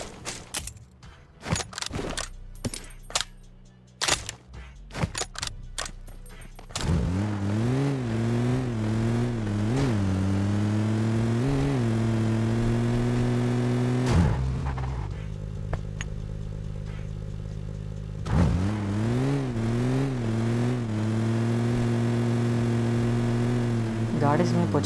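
Car engine in PUBG roaring and revving with rising and falling pitch for long stretches, preceded by a burst of sharp clattering impacts, with someone talking over the driving.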